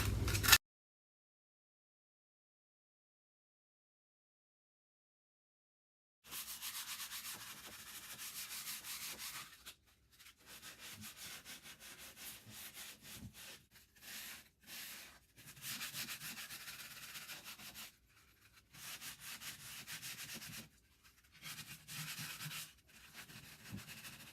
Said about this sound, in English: I am trying to sand off anything that's loose, and I also wanna see what colors are under here when I start to sand.